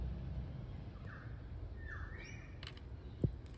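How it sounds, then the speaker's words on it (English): Birds call at a distance on an outdoor morning, with a few faint chirps and a drawn-out call that rises and falls over low background hum, plus one short soft knock near the end. "Can you hear the birds this morning?"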